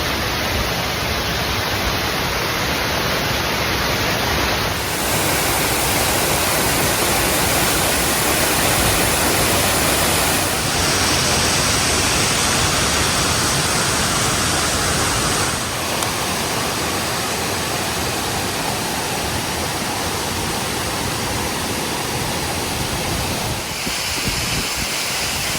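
A waterfall in the flooded Ozarks, usually a trickle, now roaring with floodwater: a loud, steady broadband rush of falling water that continues unbroken, with brief wind buffeting on the microphone and no talking.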